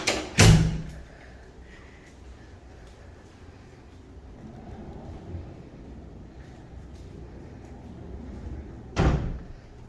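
A sliding door in a hotel junior suite rolls and thuds shut at the start, with a second firm knock near the end and a quiet room hum between.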